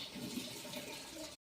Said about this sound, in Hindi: नल बंद करिए बेटा, नल पानी ज़ाया हो रहा है ना।